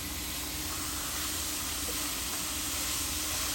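Ground beef sizzling in a pan with a little olive oil over medium heat, a steady, dense, loud hiss and crackle that holds unchanged throughout with no talking.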